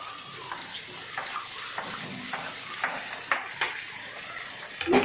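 Tomato pieces go into a pan of frying onions for aloo kurma, giving a steady soft sizzle and wet crackle with a few faint scrapes and stirring taps, close up and with no voices.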